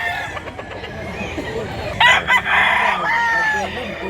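A one-year-old stag rooster crows once, loud and nearby, a strained rising call in the middle of the clip, while someone talks in the background throughout.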